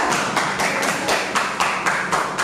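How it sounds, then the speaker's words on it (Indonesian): Classroom applause for student group 3 during a teacher performance test lesson: a short burst of many hands clapping nearby, steady and fairly loud with uneven rhythmic accents, no talking. "Beri tepuk tangan untuk kelompok 3"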